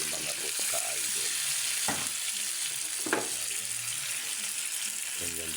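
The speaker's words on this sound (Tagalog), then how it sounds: "sunod na rin natin ilagay itong ating bunga ng malunggay" Moringa pods tossed into a pan of frying gabi (taro) sizzle steadily, with a few sharper crackling bursts and stirring scrapes; no voices.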